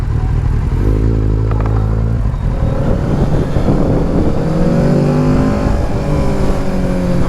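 A 2020 Kawasaki Z650 motorcycle accelerates hard, its engine loud and close as the pitch climbs steadily through the gears, with wind rush and no speech.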